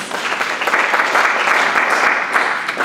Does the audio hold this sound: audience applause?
yes